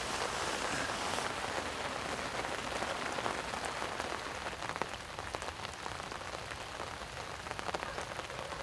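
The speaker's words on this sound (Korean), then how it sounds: "예보도 없던 비였기에 적당히 내리다 그치지 않을까 기대했지만 오히려 빗방울은 굵어지고 비의 양이 과해집니다" Heavy rain pours steadily at a flooded-tree fishing spot, a dense, loud, continuous hiss of drops on the surface with occasional sharper splatters and no talking.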